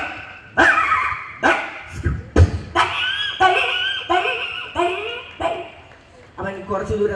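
A mimic on stage at a Kerala school festival imitates a dog with a run of close, loud barks and yips, roughly one per second, some stretched into whiny, wavering howls.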